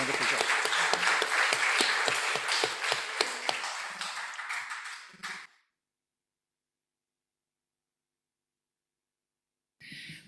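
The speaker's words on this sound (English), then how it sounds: "I'd like to say a round of applause for all of the speakers" A round of applause for the speakers at a session on sustainable, climate-resilient urban governance: dense clapping fills the first five seconds, then cuts off into silence before a brief burst returns at the end.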